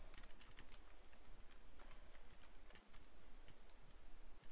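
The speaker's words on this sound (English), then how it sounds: "is that an alarm clock?" Steady clock ticking from an alarm clock in a Minecraft horror map, a rapid run of crisp clicks close up over a constant noisy background, with no voices.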